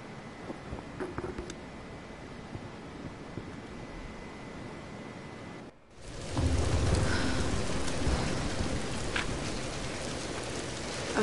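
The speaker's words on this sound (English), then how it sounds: "We're getting closer to the storm." Steady heavy rain in a stormy scene from Tomb Raider Definitive Edition. About halfway through it cuts out briefly, then returns louder and denser with a low rumble of thunder underneath, continuing without speech.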